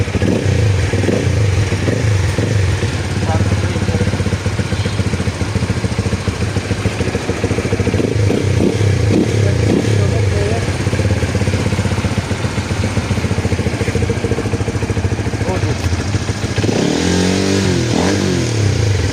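A Rusi Flash 150x motorcycle engine runs loud and close throughout, revving repeatedly with the throttle over a rough mechanical clatter, rising sharply in a final burst near the end.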